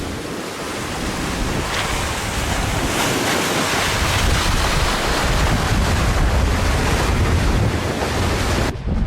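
Continuous rushing of sea waves and strong wind buffeting the microphone aboard a sailboat at sea, with swell running slightly across, a dense steady roar with no speech.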